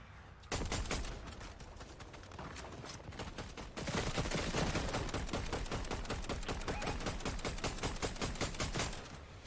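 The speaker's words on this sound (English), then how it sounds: "It was just non-stop RPG firing." Rapid, relentless bursts of RPG rocket launcher fire in a Fortnite Bedwars match, loud dense volleys that get even heavier partway through, with no talking.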